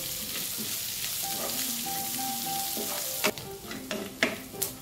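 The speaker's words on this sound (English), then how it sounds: "add the sliced onions and fry them together with the rest of the ingredients" Sliced onions frying with dried anchovies in a pan make a steady close sizzle, joined near the end by several sharp clanks and scrapes of a spatula stirring, no speech.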